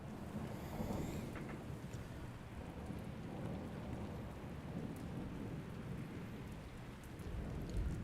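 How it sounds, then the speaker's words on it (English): Rain falls steadily in the video game Rain World, with low thunder rumbling under a dense, hissing patter of drops; no voices. "It is just kind of nice to just sit and listen to the rain here."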